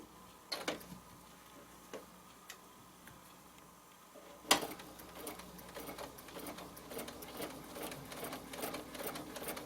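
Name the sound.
sewing machine stitching a pillow design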